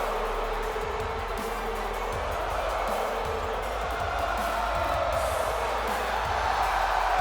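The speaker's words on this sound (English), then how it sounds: "Listen to this crowd here in the O2. It is deafening." Crowd noise in a WWE 2K18 arena at the O2, a constant loud wash of cheering and chanting that stays steady throughout, with no clear talk on top.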